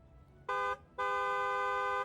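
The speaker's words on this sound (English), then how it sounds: "More honking." Two car horn blasts, a short toot followed by a longer sustained honk, fairly distant over a low traffic rumble.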